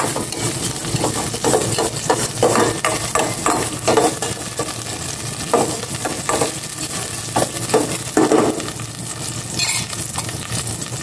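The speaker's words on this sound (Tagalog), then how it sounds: "Then, igisa ko na itong bawang." Garlic sautéing in cooking oil, a loud continuous sizzle with repeated scraping and clinking of a utensil against the pan throughout.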